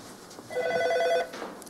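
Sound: telephone ringing

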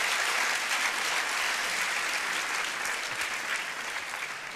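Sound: audience applause

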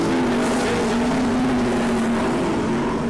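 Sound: sprint cars racing on a speedway track

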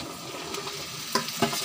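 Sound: okra added to sizzling fried onions

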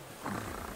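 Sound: cat purring in a SpongeBob video game

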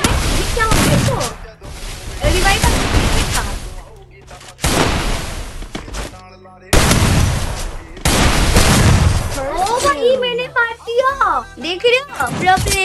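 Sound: gunfire, continuous shots in a video game

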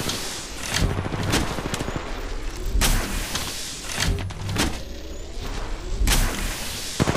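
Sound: gunfire in the video game Apex Legends Mobile

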